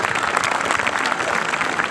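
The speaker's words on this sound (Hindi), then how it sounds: "बहुत अच्छी तालियों के साथ हम उनको अभिनंदन करें" Audience applause for teachers at a school Labour Day celebration, dense and sustained clapping at moderate loudness with faint voices underneath.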